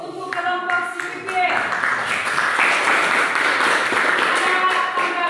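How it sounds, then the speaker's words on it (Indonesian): A classroom full of students claps for a presenting group, with a few separate claps at first that swell into sustained, close, dense applause lasting several seconds. "Tepuk tangan dulu untuk kelompok CPP."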